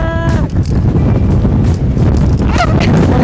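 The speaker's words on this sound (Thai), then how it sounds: "คือตอนนี้ลมแรงมา" Strong wind at a viewpoint over Barcelona buffets the microphone with a loud, constant low rumble throughout. Faint voices and brief chirpy sounds come through underneath.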